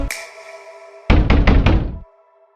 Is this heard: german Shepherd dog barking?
no